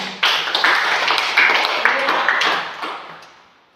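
A classroom of children claps hands together in a dense burst of overlapping claps that holds steady for a few seconds, then fades away near the end.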